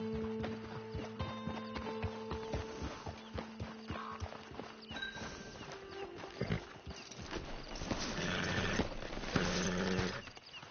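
A horse in the Red Dead Redemption Online video game trots with steady rhythmic hoofbeats over a bed of chirping insects, and the sound grows busier and louder near the end.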